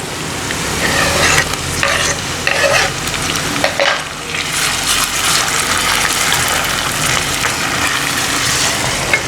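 Onions and tomatoes sauté for a fish curry, frying loudly and steadily while a spoon stirs and scrapes the pan in repeated bursts.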